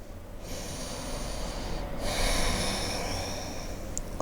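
Slow, deep breathing during a yoga pose, one long exhale followed by a steady inhale, close and audible over faint room hiss.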